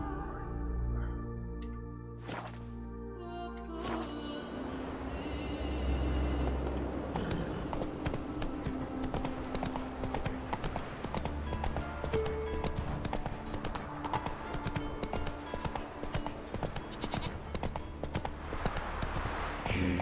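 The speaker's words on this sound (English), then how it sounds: "Whoa there, Roach." Hooves clip-clop steadily in a quick gallop rhythm from a horse in the video game Witcher 3, close and continuous over a low rumbling game background.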